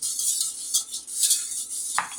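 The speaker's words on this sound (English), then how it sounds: "You're going to want to continuously stir your ice cream base" An ice cream base is stirred in a pot with a utensil, giving close scraping and swishing strokes in an uneven rhythm, ending with a slightly heavier knock against the pot.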